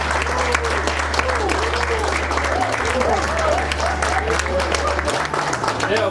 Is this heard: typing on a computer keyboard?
no